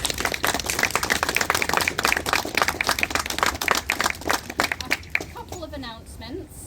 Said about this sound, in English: a round of applause for all of you change makers